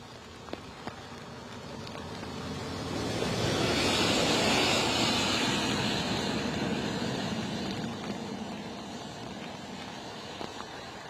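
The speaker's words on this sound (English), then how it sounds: "That was some sort of farm vehicle" A farm vehicle drives past near an airport runway on a gusty day, its broad engine rumble swelling from a distance to a loud peak midway and then slowly fading away, with no talk.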